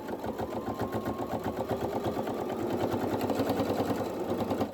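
A sewing machine runs steadily, stitching through a thick moving blanket for a cover, its needle chattering in a fast, even rhythm with a motor whine underneath, close and continuous throughout.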